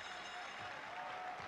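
A crowd at a 1984 basketball semifinal between Manchester Giants and Maccabi Tel Aviv applauds steadily, a distant wash of clapping with no clear talk.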